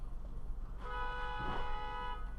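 A car horn in traffic sounds one sustained, fairly loud honk of just over a second, rising out of a low rumble of road noise.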